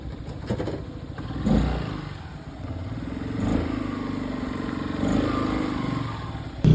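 A motorcycle engine idles with a rough, clattering putter, revving up in a few surges before settling, close by and steady throughout.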